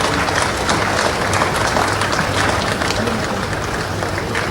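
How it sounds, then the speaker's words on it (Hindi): Loud, dense crowd clapping at a large public event in Jagdalpur, Bastar, a continuous wash of hands with no pauses, close and steady throughout, with a faint low murmur underneath. "आपकी तालियां बजती रहनी चाहिए।"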